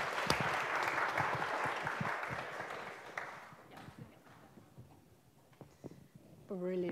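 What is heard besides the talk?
audience clapping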